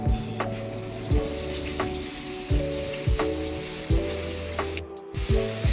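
Chicken fillet frying in hot oil in a pan, a steady bright sizzle broken by several sharp, repeated bursts of spitting and hiss, close by, with no voices.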